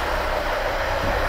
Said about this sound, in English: So I put the key in the slot, brake pedal on, and crank.